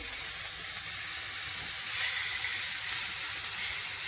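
Beef tenderloin steaks sizzling on a hot grill pan in a home kitchen, a steady close hiss of searing meat that holds evenly without pause and with no voices.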